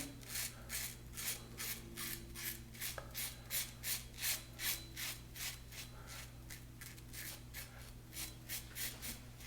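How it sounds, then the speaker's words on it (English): A combo razor with an open comb shaves sideburn stubble in quick regular rasping strokes close up, a soft scratchy rhythm over a faint steady hum, with no talking. "Just cut that sideburn. I just apply a slight amount of pressure, keeping the blade in contact with the skin."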